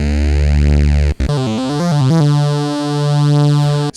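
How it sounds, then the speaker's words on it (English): Dave Smith Instruments Pro 2 analog synthesizer oscillators with the girth function adding low end: a loud sustained buzzy tone, briefly cut off, then a stepping sequence of pitches settling into a steady droning note, played alone. "This girth function adds a little bit of low end to the oscillator"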